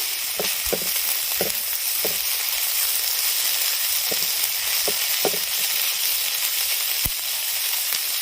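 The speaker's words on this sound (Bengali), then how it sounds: "ভালো করে নেড়ে চেড়ে ভাজা ভাজা করব" Banana stem sizzles as it is stir-fried in a pan, a steady frying hiss broken by repeated scraping clicks of stirring.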